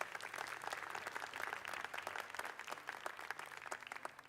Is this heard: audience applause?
yes